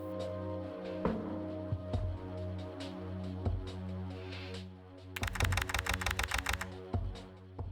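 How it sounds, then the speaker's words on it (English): Computer keyboard typing from the Kathy Rain video game: scattered keystrokes at first, then a rapid, steady burst of clicks, all over a constant droning background tone. "I'm typing nonsense."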